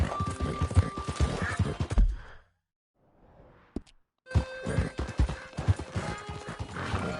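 Hoof clip-clops and a horse's whinny in the video game Red Dead Redemption 2 ring out, loud and busy, with a near-silent gap midway before the trotting resumes.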